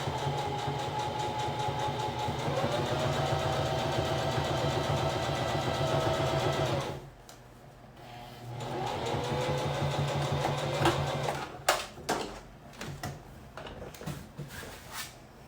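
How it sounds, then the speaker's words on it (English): A sewing machine topstitching the center seam of a heavy-duty apron, a steady close mechanical whir that stops and restarts once, then gives way to a few sharp handling knocks near the end. "now I'm just top stitching that center seam here"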